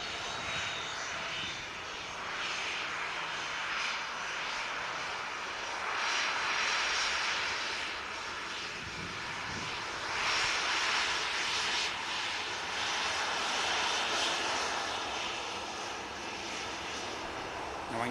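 Ryanair jet airliner at Manchester Airport, its engines giving a sustained broad roar that rises and falls in gentle waves as it moves, loud and continuous with no talking.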